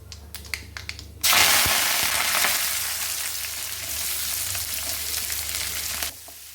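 Mustard seeds, curry leaves, urad dal and cumin hit hot oil for tempering, opening with a few snapping pops before a sudden loud, sustained sizzle that holds steady for several seconds and then cuts off abruptly.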